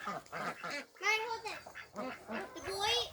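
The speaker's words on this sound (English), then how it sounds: "Ducks are out of the cage, so the babies can have some free time." Ducks let out of their cage into a backyard garden quack in repeated nasal bursts, fairly close, with some voices mixed in among the calls.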